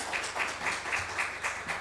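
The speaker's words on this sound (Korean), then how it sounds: "우리 박수 한번 합시다." Applause from an audience at a Korean church anniversary worship service, a steady, moderately loud wash of clapping with faintly discernible hand claps throughout.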